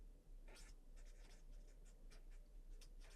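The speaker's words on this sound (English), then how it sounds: "Let me write this neatly." Pen strokes of handwriting on paper, close and quiet, in short scratchy bursts of varying length with brief pauses between words.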